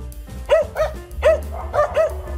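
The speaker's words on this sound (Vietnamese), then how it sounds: "Con chó." A dog barks about five times in quick, uneven bursts, close and fairly loud, with short pauses between.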